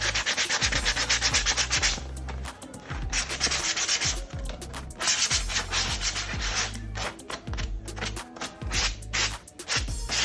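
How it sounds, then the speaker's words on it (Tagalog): Steady back-and-forth scraping of 100-grit sandpaper on a hard surface, rhythmic rubbing strokes repeating close by for several seconds, briefly pausing and resuming. "Ang gamit pa rin natin liha, 100."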